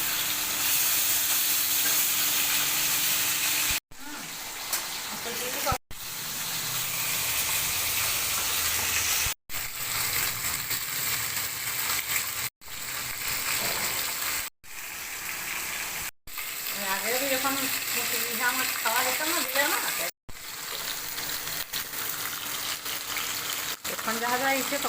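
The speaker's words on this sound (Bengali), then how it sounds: "এইভাবে মাছগুলো উল্টে উল্টে ভালো করে ভেজে নিতে হবে।" Rohu and small puti fish frying in oil, turned over repeatedly, give a continuous loud sizzle broken by short gaps, with occasional voices talking over the hiss.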